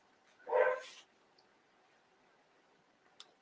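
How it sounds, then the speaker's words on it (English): A single short burst of dog barking rings out, moderately near, followed by quiet room tone and a faint click near the end. "I don't know why they're barking. Could be across the street."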